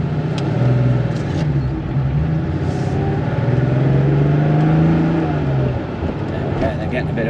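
An air-cooled classic Porsche 911 Carrera 3.2 engine idles while warming up, a steady low rumble with slight swells, heard from inside the car with faint clicks.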